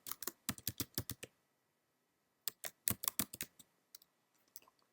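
Computer keyboard typing while saving a data file in MATLAB: two bursts of rapid, close key clicks, a second of silence between them, then a few scattered taps trailing off.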